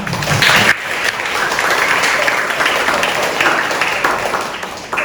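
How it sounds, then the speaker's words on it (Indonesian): An audience at a Buddhist dharma talk gives lively, dense applause. The clapping is loud and continuous throughout, with a brief dip near the start. "Mari kita sambut mereka dengan tepuk tangan yang meriah."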